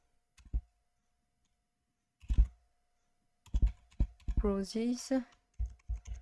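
Computer keyboard keys clatter in short, sharp bursts of several quick clicks, close and fairly loud, with a brief spoken word among them.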